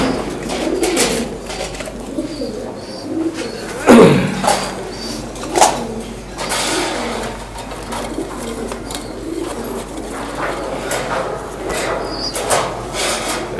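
Beauty-breed pigeons in Andalusian colour coo softly in a loft, low murmuring calls repeating under occasional clatter and a faint voice.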